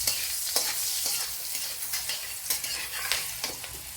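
Two chopped green chillies sizzle in a hot pan with other ingredients, a loud close crackling hiss with recurring stirring scrapes and light utensil taps, no voices.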